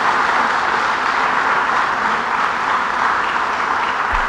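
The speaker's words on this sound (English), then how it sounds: "Let's give her a round of applause." A crowd claps continuously at a public announcement event for the ROC the Riverway initiative, a broad, dense wash of applause holding steady at a fairly loud level for over four seconds.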